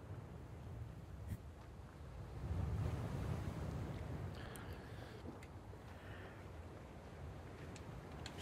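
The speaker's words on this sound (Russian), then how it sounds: "Это океан или море?" Ocean waves wash in the video game Black Book, a soft, distant surf blended with wind that swells briefly and then settles into a steady hiss, with no one speaking.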